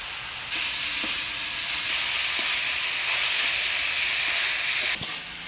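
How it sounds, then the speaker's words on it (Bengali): Turmeric, salt and green chili hit hot tempering oil with a loud, steady sizzle and hiss that holds for several seconds, close up, with a few faint utensil knocks and no talking. "এবারে ফোড়নের তেলে দিয়ে দেব হলুদ লবণ কাঁচা লঙ্কা"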